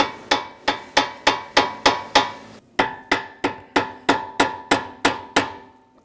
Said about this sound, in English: Just take a hammer, give it a little tap.